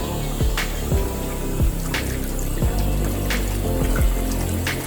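Water rushes steadily through an aquarium python hose system into a baby turtle tank, a continuous close gushing flow with small splashes and gurgles and no voices.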